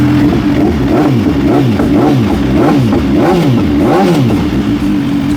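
A big motorcycle engine revs hard through a loud exhaust, rising and falling in rapid repeated bursts, close and forceful throughout.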